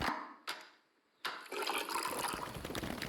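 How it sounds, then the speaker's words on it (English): Coffee pours into a cup in a film scene: a steady, close liquid stream after two brief splashes, continuing to the end. "That's the sound of coffee pouring."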